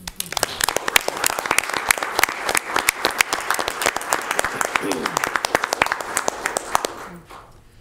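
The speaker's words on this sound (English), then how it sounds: "A round of applause, please." A board of commissioners meeting audience applauds employees at a milestone anniversary, many hands clapping in a sharp, crackling burst that holds steady before fading out at the end, with a voice speaking underneath.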